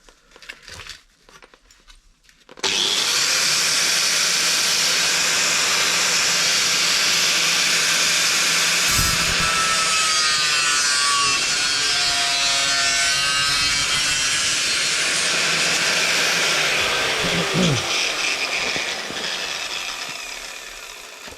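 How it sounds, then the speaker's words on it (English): Power tool cutting a metal repair template for a Vauxhall Cavalier MK3, starting after a short quiet lead-in, then a loud, steady high-pitched cutting whine running continuously for about eighteen seconds with slight pitch shifts. "So I'm just going to trim a wee bit off of there"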